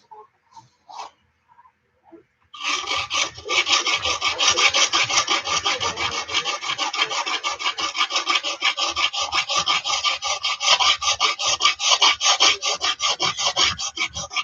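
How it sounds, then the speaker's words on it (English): Steel file draw-filed along a straight razor blade from a Friedr Herder kit, a steady run of close, loud rasping strokes in even rhythm after a few faint knocks at the start. "draw filing is just for really smoothing things out."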